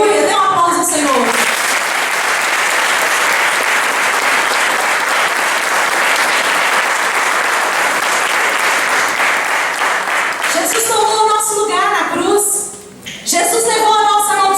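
Sustained applause from a church congregation praising the Lord, loud and steady for about ten seconds before breaking into scattered claps and voices at the end.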